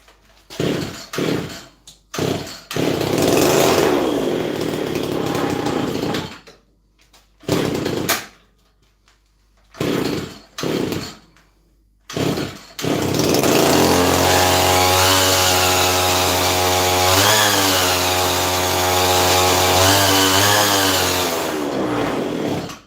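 A chainsaw engine revs loudly and close in several short bursts separated by near-silent gaps, then holds a long, sustained high rev that rises and falls slightly toward the end.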